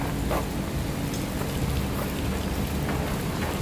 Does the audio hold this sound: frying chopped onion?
no